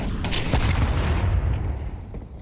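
A grenade blast rings out during an ESL Pro League Season 22 Counter-Strike match, a loud, deep booming burst with rumbling low end that decays over about two seconds, with scattered gunfire-like cracks mixed in.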